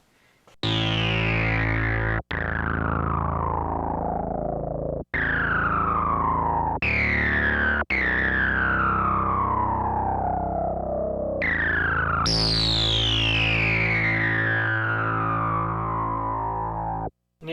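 Behringer Model D synthesizer pushed hard with the mixer volume at 10 into an overdriven filter, playing a run of loud, rich, distorted notes, each a sharp attack followed by a sweeping filter decay, alone with no talking.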